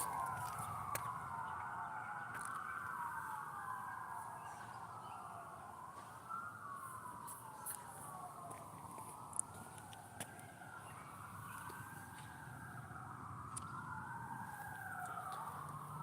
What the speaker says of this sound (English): Or more like an ambulance, but could have been a fire truck.